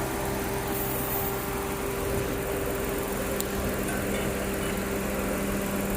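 A car engine idles steadily during air-conditioning service valve replacement and refrigerant refilling, a constant low hum and drone running evenly throughout with no voices.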